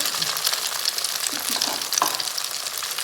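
Thai omelette with live shrimp frying in plenty of hot oil, a bright, close crackling sizzle with small pops throughout, no voices over it.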